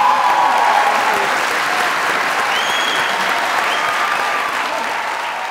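Studio audience applause on a Pakistani comedy talk show, a dense sustained wash of clapping that slowly fades, with faint whistle-like tones and a voice briefly underneath.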